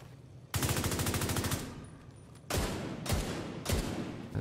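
Semi-automatic rifle fire in The Division 2 bursts out as a quick string of close, sharp shots, followed by three more separate loud reports with short pauses between them.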